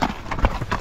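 A ranch horse's hooves clip-clop during a ride, with a few quick close knocks in under a second, heard over faint background noise.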